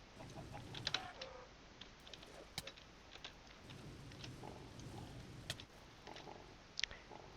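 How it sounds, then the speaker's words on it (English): A taint-poisoned chicken in modded Minecraft clucks in a few short, faint bursts, close by, over a quiet background with scattered clicks and taps. "Oh look, chicken's got taint poisoning."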